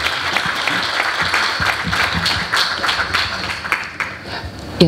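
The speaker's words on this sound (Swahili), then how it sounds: "Hiyo ni makofi jamani." Audience applause at a bank card campaign launch event, a dense steady clapping from a crowd lasting about five seconds, moderately loud and without talk.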